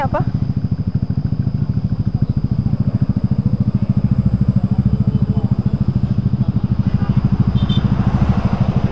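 Motorcycle engine running steadily and close during a night ride in Puncak, its rapid, even exhaust pulses throbbing loud and unbroken throughout.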